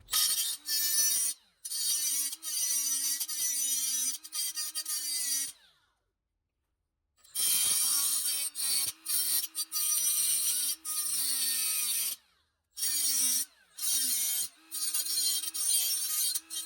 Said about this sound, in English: A little die grinder makes pretty quick work of it.